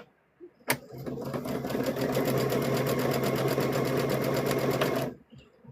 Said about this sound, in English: we're going to sew, leave open, sew down